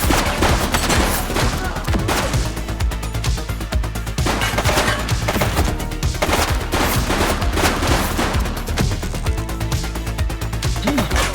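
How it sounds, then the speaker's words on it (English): Dense, loud bursts of automatic gunfire and rapid shots fill a firefight in the police video game The Precinct, nearly continuous volleys with a voice shouting underneath. "She's shooting!"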